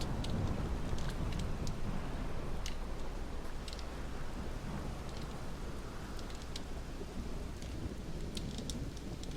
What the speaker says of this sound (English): Dark and stormy night.